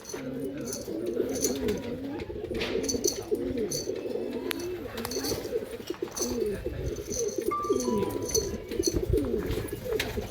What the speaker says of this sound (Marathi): काय क्वालिटीचे कबूतर आहे.